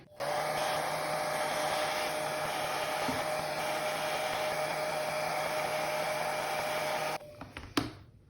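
A hair dryer blows across a watercolor tree painting in one long, steady whirring rush for about seven seconds, then shuts off, followed by a few small knocks.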